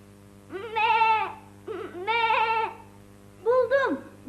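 A child imitates a lamb, giving three wavering bleats one after another, close and clear over a faint steady hum.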